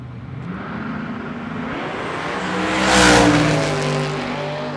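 Outlaw 8.5 drag racing car running down the track at a West Coast Hot Rod Association event, a loud roaring engine building and sweeping past at its peak before fading slightly.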